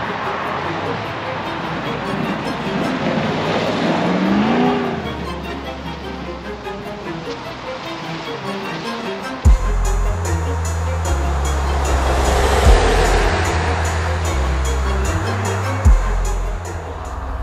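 A 2022 Jeep Grand Wagoneer with a 392 V8 out on the road, heard from inside as a steady rumble of engine and road noise, with a deeper low drone and a few bumps in the later half.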